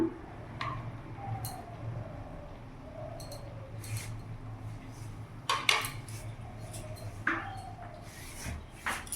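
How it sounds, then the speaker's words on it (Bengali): A spoon stirs catla fish head muri ghonto with ghee and garam masala in a pot, giving scattered metallic clinks and scrapes over a low, quiet background hum. "ভালো করে এবার নাড়াচাড়া করে নেব।"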